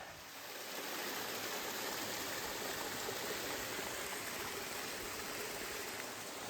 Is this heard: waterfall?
yes